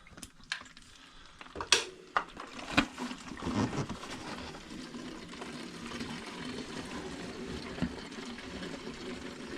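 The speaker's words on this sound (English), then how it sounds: "Let's drain this gas out, I guess." Old, tainted gasoline drains from the fuel tank of a 1984 Yamaha Virago 1000 motorcycle as a faint, steady liquid trickle, with a few knocks and handling clatters near the start.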